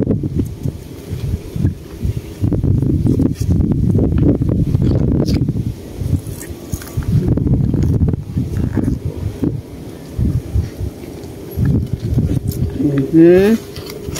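Strong wind rumbling across the microphone on choppy water while fishing for snakehead, heavy low gusts in long bursts with brief lulls, a voice speaking intermittently and a short whistling tone near the end.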